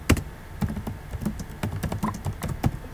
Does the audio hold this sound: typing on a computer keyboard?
yes